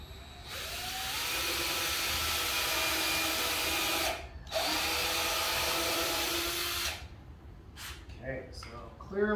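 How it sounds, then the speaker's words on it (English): A power drill bores pilot holes in wood for an English joiner's workbench, two sustained whining runs with a brief pause between, followed by quieter clicks and handling. "gonna prep the pilot holes"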